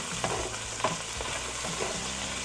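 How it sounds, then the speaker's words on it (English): Two large garlic cloves fry in a pan, giving a continuous close sizzle broken by scraping, clacking stirring strokes. "And in the same pan, let's add the garlic."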